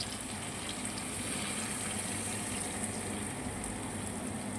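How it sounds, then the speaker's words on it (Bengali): Water poured into chicken curry in a pan, a soft, continuous splashing rush that holds steady at a low level throughout. "আমি সামান্য একটু জল দেবো এর মধ্যে"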